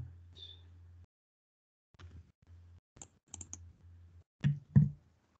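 Sparse clicks and taps from a computer mouse or keyboard during an online meeting, short separate bursts near the microphone with quiet gaps and a low hum in between.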